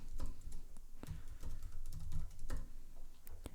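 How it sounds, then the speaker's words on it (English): Keys clatter on a computer keyboard as a new password is entered for a WordPress site, a steady run of close, quick clicks over low background hum, with no voices. "So I'm just going to type in my new password"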